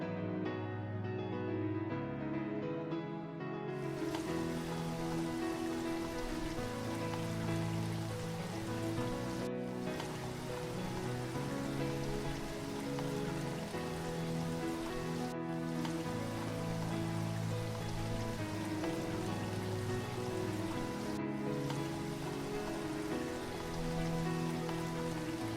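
Steady rain and wind roar through a cartoon scene, a dense, continuous wash of drops that holds evenly throughout with no voices.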